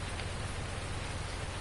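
Steady rain falls in the Farming Simulator 19 video game, an even, dense hiss with no breaks and no voices.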